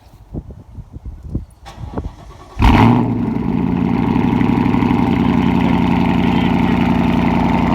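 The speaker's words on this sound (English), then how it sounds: "let me crank it up and let you hear how this one sounds" A 2014 Ford Mustang GT V8 with a ProCharger and aftermarket cams cranks and roars to life after a few clicks and thumps, then settles into a loud, steady, lumpy V8 idle close by.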